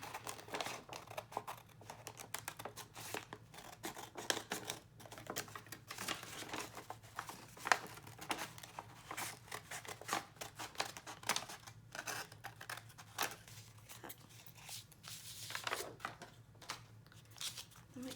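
Scissors cut out paper for a handmade sunflower journal, giving soft, close snips and crinkling paper rustles in an irregular run that lasts throughout, fairly quiet with no talking.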